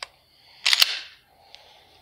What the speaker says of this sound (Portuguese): Dá os primeiros cinco tiros